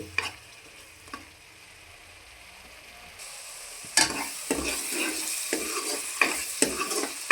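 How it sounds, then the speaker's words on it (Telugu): Onion paste frying in oil for Andhra fish curry: a quiet low sizzle at first, then a louder stretch of close spoon scraping and clinks against the pan with a steady sizzle underneath, no talking. "ఉల్లిపాయ పేస్ట్ బాగా దొరగా వరకు యాగనిస్తే టేస్ట్ బాగుంటుంది"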